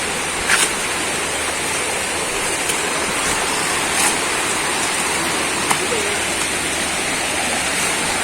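Steady broadband rush of a river flowing over rocks beside hikers in the General Nakar, Quezon backcountry, constant and close, with a few faint clicks and knocks over the water's roar.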